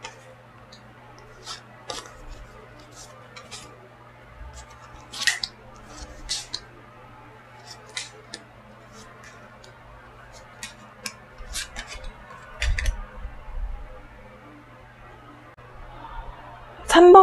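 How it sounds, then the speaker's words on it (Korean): Tarot cards being laid out during a weekly fortune reading, making soft scattered slaps and slides of card stock that come and go at close range over a faint steady hum. "카드 나열을 좀 해보도록 할게요."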